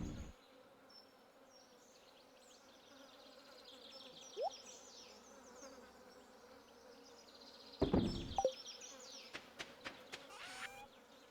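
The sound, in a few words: bees buzzing around beehives in Stardew Valley video game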